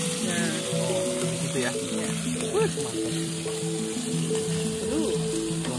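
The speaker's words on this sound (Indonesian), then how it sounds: "Oh, ditumis nih. Ini bombay ya." Onion stir-frying in a pan at a mountain campground, a steady close sizzle with occasional stirring while people talk over it.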